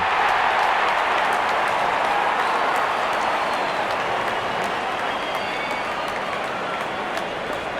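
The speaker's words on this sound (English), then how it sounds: "Openers walking in and the crowd cheering in anticipation." A dense crowd cheers at a cricket match as the opening batsmen walk out, a continuous broad roar of distant voices and scattered applause that holds steady throughout.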